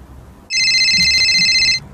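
A mobile phone ringtone rings loudly and close by as a single steady electronic tone lasting a little over a second, with no one talking.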